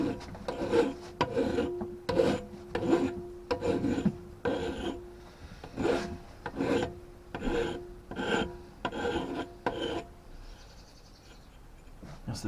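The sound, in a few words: filing burrs off a cut tube with a file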